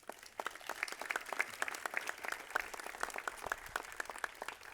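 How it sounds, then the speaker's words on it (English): Applause from an audience at a Georgia bill-signing ceremony, steady dense clapping with individual claps standing out, moderately near, no talk over it. "Please give all of them a round of applause"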